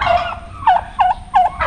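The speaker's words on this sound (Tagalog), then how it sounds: "Baby pabo." Baby turkey poults calling in a series of short, bright, close gobbling chirps, three quick bursts after an opening call, loud and alone with no talk.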